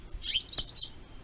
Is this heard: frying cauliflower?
no